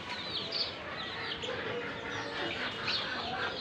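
Free-ranging chickens let out in the yard cluck and chirp continuously at a moderate distance, with occasional sharper calls rising over a steady outdoor din.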